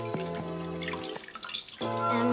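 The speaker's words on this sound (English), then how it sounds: "I'm gonna soak it with water" Tap water running onto a paper towel being soaked to clean a Traxxas Slash 1/16 VXL RC car, a steady close stream that breaks off briefly and resumes with splashing.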